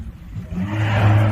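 A car engine rises from quiet to a swelling whir and rumble, growing louder over a second or so as the vehicle nears and drives past.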